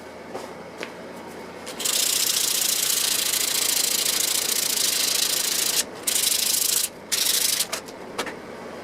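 Wood is sanded in a long, loud, continuous rough rasp, with a few brief pauses toward the end.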